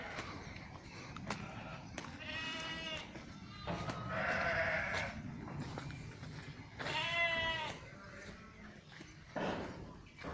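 Sheep in a pen of around two hundred ewes and lambs bleat loudly in repeated harmonic calls, several overlapping near and far, over a steady barn murmur with faint talk.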